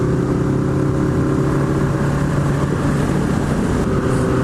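Honda Nighthawk motorcycle engine droning steadily while riding, a continuous close drone with a low harmonic hum and wind noise throughout, no voices.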